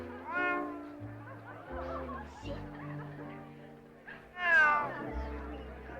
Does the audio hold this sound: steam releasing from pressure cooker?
no